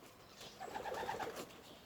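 Racing pigeons coo softly inside a loft, a faint, low rolling coo that swells in the middle and fades, with no one speaking.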